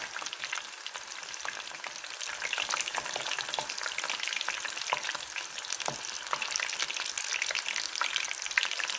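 Shrimp deep-frying in hot oil, a dense steady crackling sizzle with sharp pops throughout, close and continuous with no talking.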